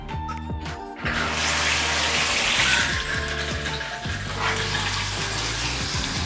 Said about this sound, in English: Let's check the water pressure.